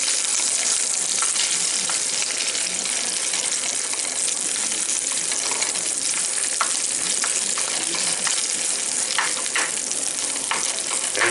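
Chorizo and scrambled eggs fry loudly in a pan, a dense, unbroken crackling sizzle that holds steady close by, with light stirring scrapes now and then.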